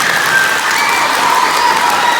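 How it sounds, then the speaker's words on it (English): Children at a school instrument demonstration clap their hands as loudly as they can, producing a loud, dense burst of applause mixed with a few cheers that holds steady for a couple of seconds. "I want to hear you clap your hands as loud as you can"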